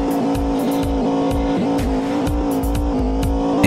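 A car in an extreme stunt racing video game sweeps through a run of curves, its engine drone steady and loud, with recurring tire squeals and skids.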